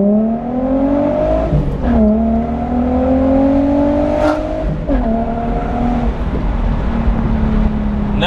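A G35/350Z with a plenum spacer pulls hard in first gear, its engine note climbing steadily through the revs, dropping sharply at shifts near two and five seconds, then rising again, loud and close from inside the car.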